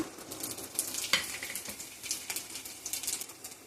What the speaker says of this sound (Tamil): எண்ணெய் சூடானோடனே தாளிப்பு வடகம் ஆட் பண்ணிக்கோங்க